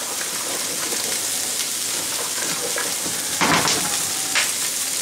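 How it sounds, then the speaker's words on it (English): Shrimp, broccoli and bow tie pasta stirred in a pan just after the flame is turned off, giving a steady close sizzle with scraping stir strokes and a couple of louder clatters, no talking. "Okay, mixing this around."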